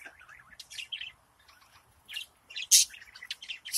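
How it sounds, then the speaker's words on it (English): Yellow female parakeet chirping in quick, bright bursts, near and fairly quiet, with short gaps between tweets and a few louder calls near the end; no talking. "The beautiful yellow female parakeet."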